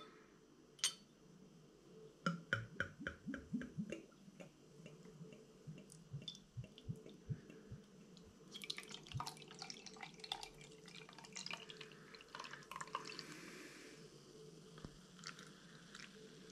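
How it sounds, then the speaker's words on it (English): Barrel-aged porter beer is poured from a bottle into a glass, with gurgling, splashing and dripping liquid heard up close. The sound starts in separate bursts and settles into a steady fizzing glug, with no talking. "Let's see if we can pour this nicely into this glass."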